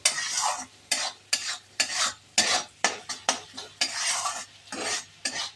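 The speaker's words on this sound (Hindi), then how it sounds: "गैस का फ्लेम मीडियम करके 3 से 4 मिनट इस मसाले को हम भून लेंगे" Onion and spice masala roasts over a medium flame, a spoon scraping and stirring it around the pan in a quick repeating rhythm of loud, sharp strokes over a soft sizzle.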